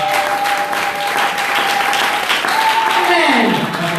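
Church congregation applauding, a dense steady clapping crowd close by, with a voice speaking over it.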